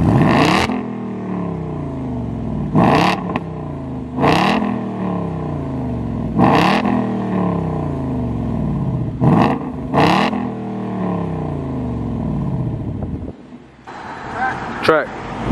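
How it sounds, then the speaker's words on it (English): Loud repeated throttle blips from a 2019 Ford Mustang GT V8 with an X-pipe exhaust, six sharp revs spaced over a burbling idle, close to the microphone with some wind noise, ending in a brief scuffle of handling sounds. "Now with the xpipe, that is gonna sound way better. So I guess we're doing some revs now."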